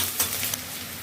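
Capsicum frying with onions in a hot pan gives a steady, soft sizzle throughout, with a few faint stirring scrapes and no voices.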